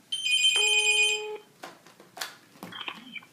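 A phone rings during an outgoing cell phone call, one loud, steady electronic ring tone, followed by a few softer clicks and brief tones.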